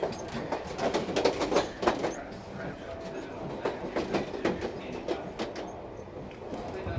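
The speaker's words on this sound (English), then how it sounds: "Check out the train here at Brasstown Bald." A tourist train at Brasstown Bald, Georgia rumbles along its rails with rhythmic clacking, fairly close, while people talk over it.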